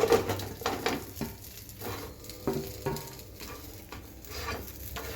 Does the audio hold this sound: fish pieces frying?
yes